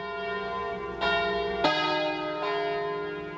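Large church bells toll in slow succession from the bell tower of Campese, each deep strike ringing out and overlapping the long humming decay of the last.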